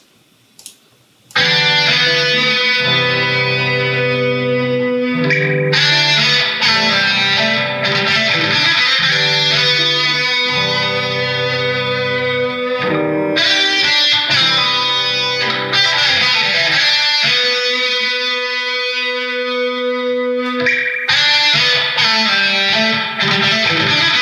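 Electric guitar through the JST Toneforge Guilty Pleasure amp plugin with spring reverb, playing loud sustained distorted chords and riffs in sections with brief gaps, the layered tones ringing out full and continuous.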